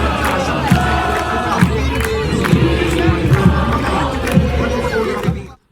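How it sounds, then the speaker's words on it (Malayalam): Morocco football fans cheer and chant as a crowd at Aspire in Doha during the World Cup, a loud, continuous roar with rhythmic shouts that cuts off abruptly at the end. "എങ്കിലും ആസ്പയറിൽ ഉയർന്നു തന്നെ കേട്ടു അവരുടെ ആർപ്പുവിളികൾ."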